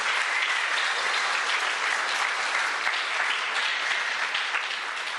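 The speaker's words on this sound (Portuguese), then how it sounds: "Vamos dar uma salva de palmas para ela?" A church congregation applauding, dense sustained clapping from many hands, loud and even throughout with no pauses.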